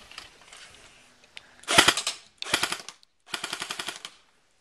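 A Cyma Thompson 1928 replica airsoft gun fires .25 BBs outdoors in three sharp full-auto bursts, each a rapid rattling string of shots, loud and close, with short pauses between.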